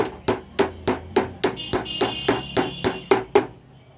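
A hammer taps a mixer grinder coupler down onto its armature, about a dozen sharp, evenly spaced metallic knocks at close range with a faint ringing tone in the middle, no talking.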